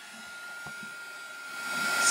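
Heat tool blowing hot air to dry surface spray colors on a craft piece, a steady whooshing hum that grows louder toward the end, heard close and alone.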